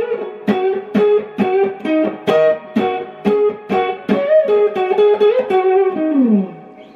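Electric guitar lick picked entirely with hard downstrokes, each note dug in with a strong attack, in a steady run of separate plucked notes over distortion and effects, ending on a slide down, with no talking.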